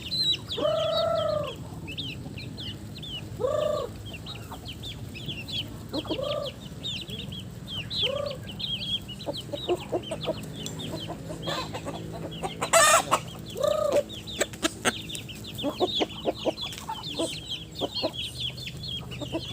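Chickens and ducks cluck and call repeatedly in a busy farmyard while feeding, with a rooster-like crow partway through and scattered sharp pecks and knocks nearby.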